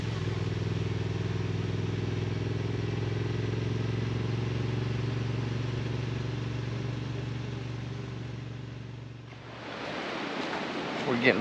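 Riding a motorcycle through New River Gorge National Park in West Virginia toward the Thurmond Historic District, a steady low engine drone with a loud wind roar that lasts most of the way, then shifts into louder buffeting near the end.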